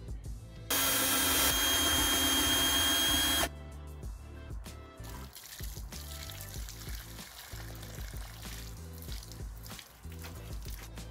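Water drains and pours out of a rusty fuel tank being flushed for restoration, a loud steady gush that stops abruptly, followed by quieter dribbling and clattering sounds.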